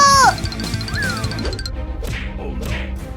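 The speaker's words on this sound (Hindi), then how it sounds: "चिंटू पिंकी, कैट्स की आवाज आ रही है।" A brief high meow opens, followed by crashing thumps and a couple of rising cat-like cries amid busy cartoon sound effects.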